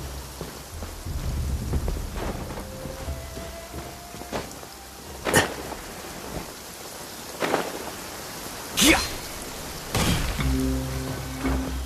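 Rain falls steadily in the video game Genshin Impact, with several loud thunder cracks rolling through the downpour, one early, one midway and a sharp peak near the end, with no voices over it.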